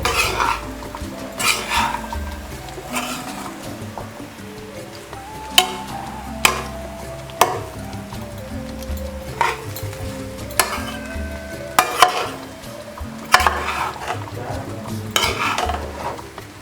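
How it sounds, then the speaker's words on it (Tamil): Navadhaniya sundal with masala and grated coconut is stirred in a pan, a close, steady run of metal spoon scrapes and knocks over a low sizzle, without any talking. "ஒரு 2 to 3 செகண்ட்ஸ் இது மாதிரி கலரி விடுவாங்க"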